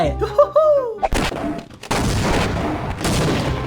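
Half-Life game audio with a short musical jingle, then heavy booming artillery cannon blasts from a fort at a nuclear base, in bursts, loud and close, with bits of voice mixed in.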